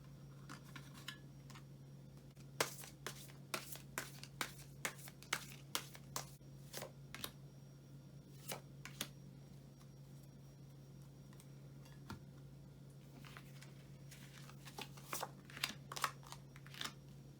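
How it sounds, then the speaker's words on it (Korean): Tarot cards are shuffled and drawn in a quiet room with no talk. Soft, irregular snaps, flicks and riffles come one after another over a steady low hum. "그럼 여기서 여러분을 위한 조언으로 추가 카드 뽑아보도록 하겠습니다."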